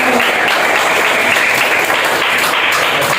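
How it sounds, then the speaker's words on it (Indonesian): A classroom audience bursts into loud, dense applause that runs steadily for about three seconds, with many hands clapping at once and no voices on top. "Oke, tepuk tangan untuk ketiganya."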